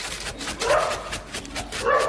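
A cartoon dog barks and whimpers in short yips, two louder bursts standing out, with a lively mid-range tone and no talk over it.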